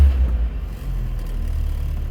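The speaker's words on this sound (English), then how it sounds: "It'll run for a minute just because there's fuel in the bowl of the carburetor." A 1978 Toyota Sunrader engine runs on the fuel left in its carburetor bowl, giving a steady low rumbling idle, close and continuous, with no talk.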